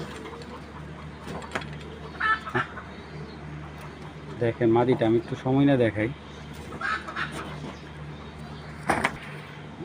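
An agitated female racing pigeon flutters and thrashes in a cage in short bursts of wing beats and rattling, with someone speaking intermittently over the commotion.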